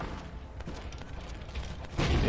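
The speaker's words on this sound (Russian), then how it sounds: "Сейчас будет бабах." A loud explosion in the video game Vampire: The Masquerade – Bloodlines bursts out near the end after a stretch of low rumbling game noise, heavy and close.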